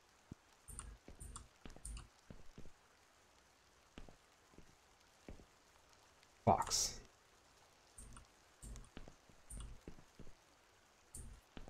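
Rain patters softly in the Quake video game, heard as faint scattered drops and clicks under a quiet voice, with one louder burst partway through.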